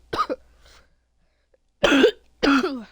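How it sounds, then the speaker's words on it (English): A person coughs several times, a couple of quick close coughs at the start and then two loud, harsh coughing bursts after a pause, with no talking. "I have a bit of a cough."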